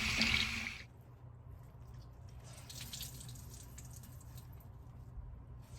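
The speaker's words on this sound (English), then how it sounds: "run hot water on a small towel like I'm doing right now" Hot water runs from a tap onto a small towel in a bathroom sink, a steady close splashing hiss that starts with a louder gush and then settles into a softer, even flow.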